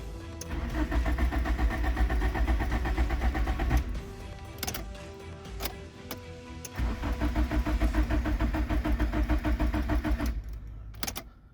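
A crashed Nissan Sentra's engine cranks repeatedly with a steady, loud starter whir, pauses with clicks and ticks around the middle, then cranks again at length before cutting off near the end.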